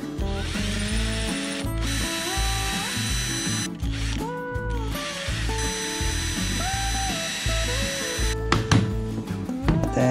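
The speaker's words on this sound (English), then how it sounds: "Ayan, drill natin." A power drill whirs steadily, its motor pitch rising and dropping as it bores through wood and acrylic, with brief pauses and a few short bursts near the end.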